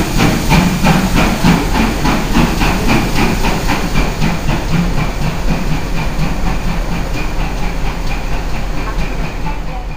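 Steam locomotive hauling the Shakespeare Express, loud and close, with a steady hiss of escaping steam over rhythmic rapid chuffing as it heads back toward a tunnel.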